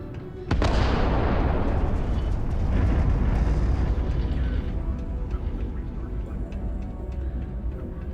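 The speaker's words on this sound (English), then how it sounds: "Particle detonation concluded." A particle detonation explosion in Starfield, opening with a sudden sharp blast that swells into a long, heavy, low rumbling roar and slowly fades over several seconds, loud and close with no talking.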